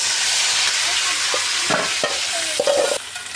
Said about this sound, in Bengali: এর মধ্যে আমি মাখিয়ে রাখা গোশতগুলো দিয়ে দেবো